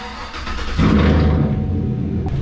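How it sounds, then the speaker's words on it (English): A truck engine cranks briefly and catches after an oil change, then settles into a steady low rumble near at hand, with no one speaking. "Crank it and pray you have oil pressure."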